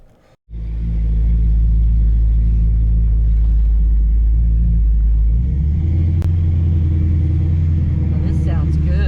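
A custom 2000 GMC Sonoma truck engine starts up and settles into a deep, loud rumbling idle, shifting to a steadier lower throb partway through. The truck is very close.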